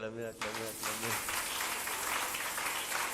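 Applause from a church congregation, a dense, steady wash of clapping that swells right after a preacher's short spoken phrase at the start and continues to the end.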